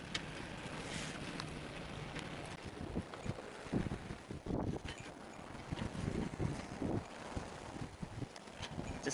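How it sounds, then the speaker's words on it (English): Single-handed sailboat on a broad reach off Rügen in north-east Germany, with water washing against the hull and gusty wind buffeting the microphone, steady and fairly quiet with no talk. "Just sailing along nicely here"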